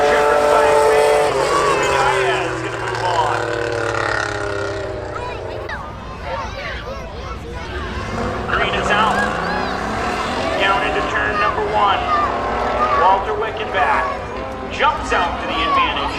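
Race cars, including a Pontiac and a Toyota, running spectator drag rounds at Seekonk Speedway, with loud engine roar swelling and fading as the cars pass, heard under steady announcer commentary.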